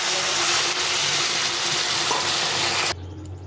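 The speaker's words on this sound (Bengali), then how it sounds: "আমি জল ফুটিয়ে রেখেছি, জলটা দিয়ে দেবো" Boiled water poured into a vegetable and spice curry in a pan, a steady loud hissing rush that runs for about three seconds and then stops abruptly, leaving a low simmer.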